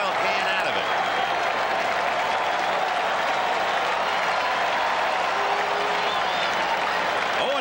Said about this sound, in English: Crowd really alive now,